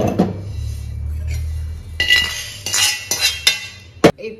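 Roasted curry leaf podi ingredients tipped from a pan onto a plate to cool, giving close clinks and scraping metallic taps that grow sharper toward the end, with a faint low hum beneath.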